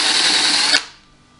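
A power drill countersinks a screw hole in a wooden chair being repaired, a loud whining buzz lasting under a second before it cuts off and fades.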